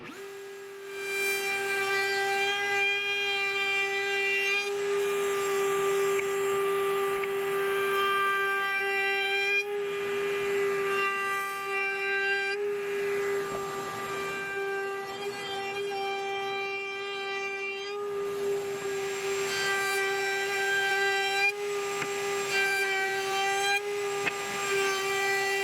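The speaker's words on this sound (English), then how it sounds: "To form a decorative edge on the pieces, I run a heavy 45-degree chamfer on one face" A router cuts a heavy 45-degree chamfer along the edge of a wooden piece, a loud, close, high steady whine that runs on for a long stretch, with slight dips and changes in tone as the cut moves along.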